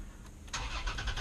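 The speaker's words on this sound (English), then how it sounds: "and the engine roars to life." A 2016 Toyota TRD pickup truck started by push button: quiet cabin, then the engine cranks and catches about halfway through, settling into a pulsing, close, moderately loud idle.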